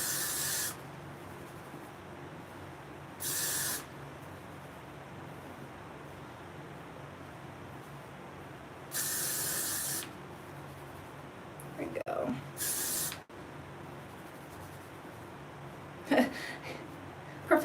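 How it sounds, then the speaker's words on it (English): Several short bursts of hairspray from an aerosol can hiss onto hair, each about a second long and spread apart, with quiet rustling and handling noises in between. "just shake your hair and hairspray it"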